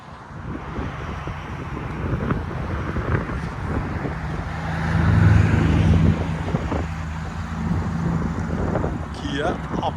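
A 2014 Kia Optima EX GDI 2.4L with a muffler delete backs out, its engine giving a low steady rumble that swells briefly midway, heard from nearby with wind noise and faint voices.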